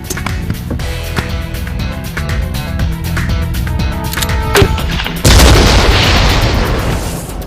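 Bazooka fired at a tank at close range: a heavy boom lands about two-thirds of the way in and gives way to a loud, sustained rushing blast roar that follows a murkier, rumbling stretch.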